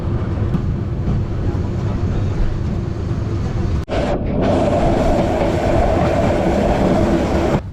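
A passenger train runs from Chattogram toward Cox's Bazar, a loud continuous rumble and rattle of wheels and carriages heard from inside, with a brief dropout midway.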